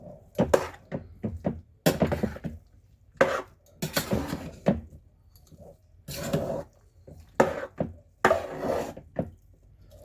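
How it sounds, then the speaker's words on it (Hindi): Chana dal is stirred into melted ghee in a pan with the flame off, giving repeated scraping, clattering strokes of a spoon against the pan in short bursts with gaps between, close and fairly loud. "अब मैं इसमें डाल दूंगी दाल और उसको अच्छे से मिक्स कर लूंगी"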